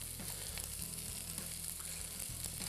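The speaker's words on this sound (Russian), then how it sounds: "Теперь масло, затем хорошую горсть лука. Слышите, как он сразу зашипел?" Onion, garlic and ginger sizzle in hot oil in a pan, a dense steady crackling hiss with faint stirring, close up and quiet, with no talking.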